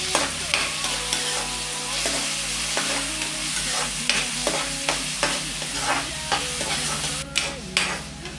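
Onion, tomato and green chilli fry in a pan for Mysore mandakki, with a steady close sizzle under repeated scraping and knocking stir strokes from a spoon against the pan.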